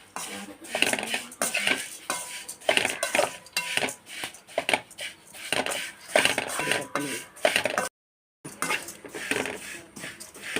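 Flattened rice (aval) roasts in a metal pan for laddu, with a spoon or spatula scraping and clinking repeatedly against the pan in busy close bursts. There is one short silent gap.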